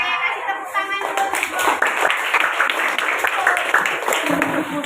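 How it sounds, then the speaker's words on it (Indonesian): A classroom of students claps together in a steady, fairly close burst of handclaps lasting several seconds, with a few voices and a shout mixed in. "Oke, kasih tepuk tangan dulu."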